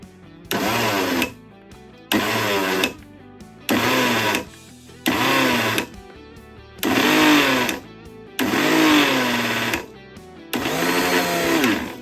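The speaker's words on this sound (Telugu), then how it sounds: "కొత్త గిన్నె అయితే మిక్సీ పెట్టేసి రన్ చేసి చూసుకుందాం" A mixer grinder with a sound problem and a slightly tight jar whirs in seven short bursts separated by brief pauses, loud and close, its motor pitch shifting within each run.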